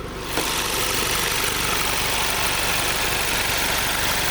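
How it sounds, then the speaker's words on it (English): A 2019 VW Golf R with an MST intake idles at steady volume, a dense, constant engine drone with a faint mechanical patter, alone without talk after a brief quieter start. "So this is the car idling."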